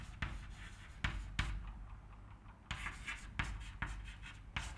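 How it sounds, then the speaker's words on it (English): Chalk or marker scratching on a board during a mathematics lecture: a steady series of short strokes and taps with brief pauses, close and clear with no talking. "So let me just write this."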